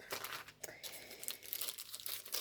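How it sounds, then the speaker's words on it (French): Plastic packaging around a combined set of stamps crinkles and tears open in a steady stream of close, busy rustling with sharp crackles throughout. "je vais vous le déballer"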